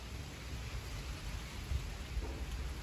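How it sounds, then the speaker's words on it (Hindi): Rain falls steadily outdoors in a home courtyard, a dense, soft hiss of drops with low rumbling underneath, heard quietly throughout without speech. "बारिश हो गई स्टार्ट।"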